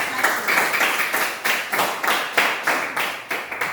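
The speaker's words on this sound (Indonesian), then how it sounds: "mari kita semua tepuk tangan buat kelompok" Fourth-grade schoolchildren clap for a group in a classroom during a Christian religious education lesson, a loud, even rhythmic beat of unison claps repeating steadily throughout.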